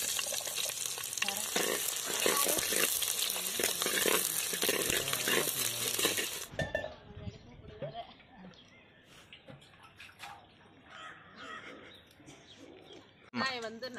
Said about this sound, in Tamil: எண்ணெயில போட்டு வதக்கணும்.